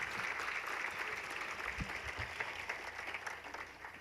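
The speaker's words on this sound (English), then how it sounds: "Could we give all the students a round of applause that have participated tonight?" Steady applause fills a room at an awards banquet, a continuous crowd of clapping hands at moderate volume throughout.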